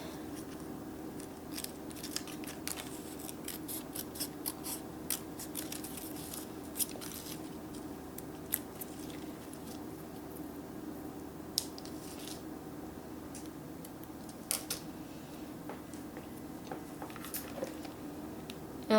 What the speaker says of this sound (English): And I'm gonna cut another piece.